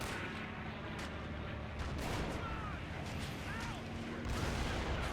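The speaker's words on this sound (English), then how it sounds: "We got another airstrike coming in." An airstrike lands in a strategy war game battle against Marines and US infantry: continuous rumbling gunfire and explosions with scattered sharp cracks and brief whistling tones, steady and moderately loud throughout.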